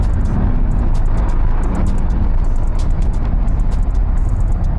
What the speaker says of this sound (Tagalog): Traffic na as usual.